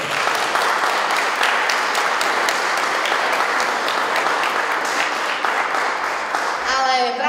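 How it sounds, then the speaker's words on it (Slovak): Sustained, dense applause from an audience at a Slovak high school graduation-ribbon celebration (stužková) for a 4th-year class, steady and loud throughout, with a few voices mixed in near the end. "to si zaslúži minimálne potlesk."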